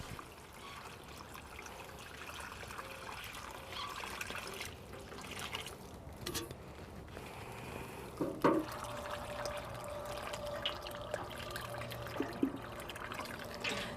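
Water poured from the back onto a slumped hydrangea in a flowerbed, a quiet steady trickle and patter into soil with a few soft knocks, close and without talk.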